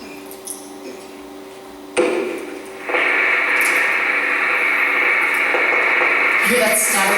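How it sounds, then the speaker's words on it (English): An old vinyl record crackles with static: a soft click, then a thump as the needle drops, followed by a loud, steady hiss and crackle that keeps going. "You hear that static?"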